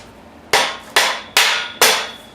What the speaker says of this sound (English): and then with a hammer,